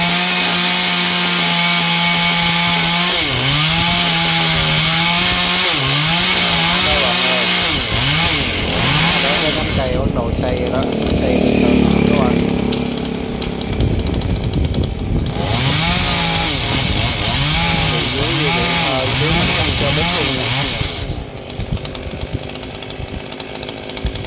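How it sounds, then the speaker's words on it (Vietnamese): A chainsaw cuts through a large branch of a big star apple (vú sữa) tree beside a main road, its engine revving and bogging in long continuous bursts with pitch changes as the blade bites, loud and close. "Rồi chú mình bắt đầu cưa cái nhánh đó nè."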